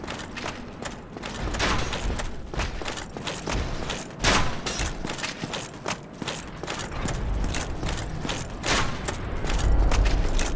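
Crossbow bolts loosed by a knight in Dark Souls Remastered, a run of sharp clattering shots and impacts repeating irregularly amid game noise, loud and close with no talk.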